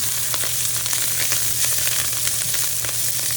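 Mint leaves frying in hot oil crackle and sizzle loudly and steadily up close, with small popping bursts scattered throughout.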